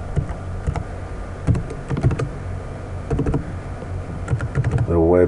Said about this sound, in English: And now we're just going to type